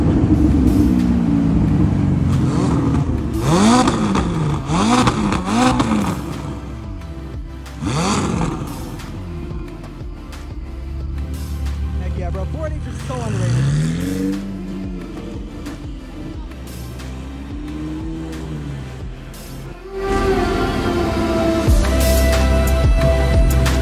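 A Toyota Camry engine revving at a car show in the Miami Design District, rising and falling in several loud throaty pulls close by, with crowd noise and street ambience underneath.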